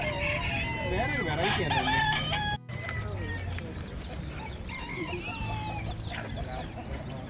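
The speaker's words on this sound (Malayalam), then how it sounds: "അപ്പോൾ പൂവങ്കോഴിയുടെ ഒച്ച കാരണം ഞങ്ങളുടെ ചെവിയുടെ ബോൾട്ട് അടിച്ച് പോയതാണ്." Roosters crow loudly and repeatedly at a busy animal market, with clucking fowl around them and people talking over the calls.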